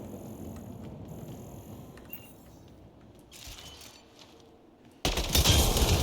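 Gunfire in the Mass Effect Andromeda video game opens up on a device. A stretch of quiet ambience and faint mechanical creaks comes first, then a sudden loud burst of shots near the end.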